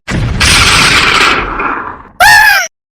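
Loud booming gunshot effect with a long rumbling tail that fades out, followed by a short bright metallic ringing burst that ends abruptly.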